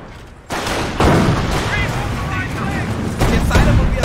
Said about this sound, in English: We are taking fire!